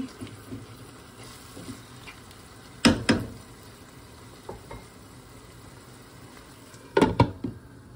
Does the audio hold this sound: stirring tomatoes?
yes